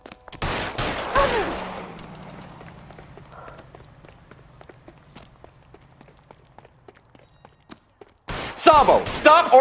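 Gunfire in the L.A. Noire detective game: a burst of loud sharp shots at the start, a quieter stretch with faint footsteps and scattered reports, then another loud cluster of shots at the end.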